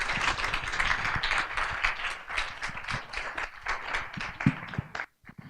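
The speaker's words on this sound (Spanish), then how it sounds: "Por favor, un aplauso para recibir a la maestra Marisa Reyes." Audience applause welcoming teacher Marisa Reyes at a Universidad de Cádiz event, dense sustained clapping from a crowd that holds steady and then cuts off abruptly near the end.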